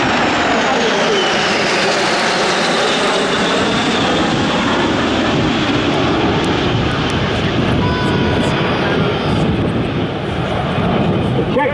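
An L-39 straight-wing jet trainer flies past at the Oshkosh airshow, its engine a loud, steady broadband roar that holds for the whole stretch with a slowly shifting pitch as it passes.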